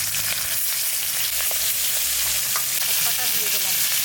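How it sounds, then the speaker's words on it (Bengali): Sonabogo river fish frying in hot oil for a village-style curry, giving a steady, close, dense sizzle with faint crackles and no talking. "এরকম করে মাছগুলো সব ভেজে নেব।"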